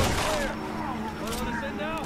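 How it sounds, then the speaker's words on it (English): Resident Evil 6 gunfire crackles in a dense, continuous burst mixed with busy in-game sounds and some voices underneath, steady and loud throughout. "Do you not hear the gunshots?"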